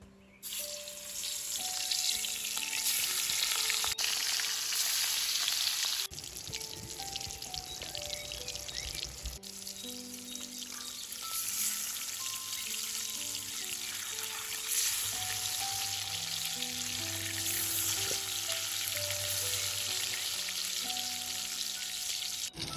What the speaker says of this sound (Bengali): তেল ওইদিকে গরম হয়ে গেছে, মাছটা দিয়ে দিব